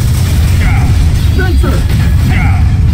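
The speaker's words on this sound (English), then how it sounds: "Proton cannon." Proton cannon special firing in Marvel vs. Capcom: Infinite, a loud mechanical whirring and booming blast with sharp bursts, layered under in-game voices.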